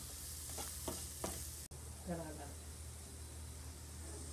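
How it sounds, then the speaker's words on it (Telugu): Vegetables for veg noodles are stir-fried in a pan, with a steady broad sizzle and a few scraping stirs early on. A voice speaks briefly over the frying. "ఇప్పుడు మళ్ళీ వీటిని బాగా కలుపుకుంటూ ఫ్రై చేసుకొని ఒక్క టూ త్రీ మినిట్స్ వీటిని ఫ్రై చేసుకుంటూ"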